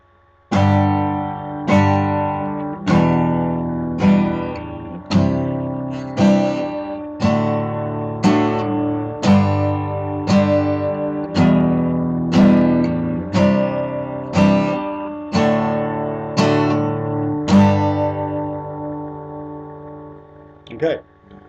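An acoustic or electric guitar strums a simple rhythm exercise, chords struck in a steady even beat roughly every second, each ringing and decaying before the next, close and clear with no voice.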